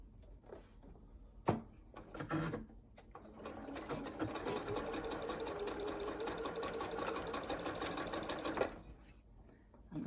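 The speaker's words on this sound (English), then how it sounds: "I've come to my sewing machine. I'm going to use the Janome 9850" A Janome 9850 sewing machine stitches quilt block pieces together, a steady whirring run of about six seconds after a few handling clicks, close and clear with no talk.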